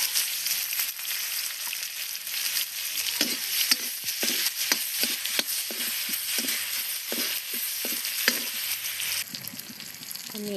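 Onion and potato fry in a little oil for an air potato yam egg curry while a spoon scrapes and stirs the pan, giving a steady broad sizzle punctuated by repeated close clinks, with no talking.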